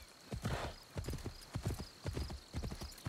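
Rhythmic clip-clop of horse hooves in the video game Assassin's Creed Shadows, steady trotting beats, fairly quiet and close, with a faint whinny near the start.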